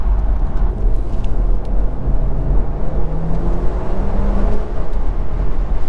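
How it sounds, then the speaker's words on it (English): A BMW 640i in sport mode accelerates with a steady, loud engine drone heard from inside the car on a cold day, a low rumble rising gradually with faint gear-change shifts. "It does sound well, this car."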